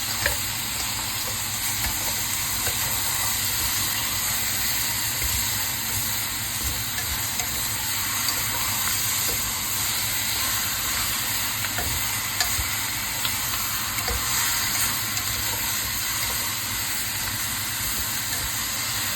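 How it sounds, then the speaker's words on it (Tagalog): Beef sautés with onions in a hot pan for Bicol express, giving a loud, constant, even sizzle close by with no talking. "igisa muna natin siya hanggang mag-change yung color"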